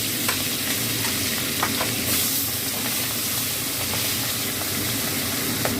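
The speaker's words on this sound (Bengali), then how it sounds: "এটা গরম হয়ে গেছে, আমি এবার পাবদা মাছগুলো ভেজে নেবো।" Pabda fish frying in hot mustard oil, a close steady hiss and sizzle with small pops and scraping stirs scattered through it, no talking.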